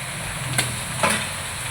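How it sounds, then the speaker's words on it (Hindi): Chicken added to onions frying in a pan: a steady, close sizzle of hot oil with two soft bursts of louder crackling as pieces drop in, no voices. "अब मैं चिकन इसमें ऐड कर देती हूँ।"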